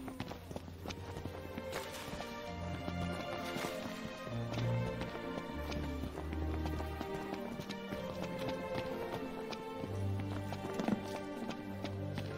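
Chocobo footsteps running in Final Fantasy XV, a steady galloping clip-clop rhythm over layered game music, moderately loud throughout with no talk.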